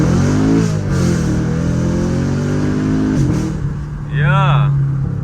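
A Chevrolet Camaro SS revs hard under full acceleration, its engine note climbing loud and close through a sustained pull, with talk over it and a brief shift dip near the end.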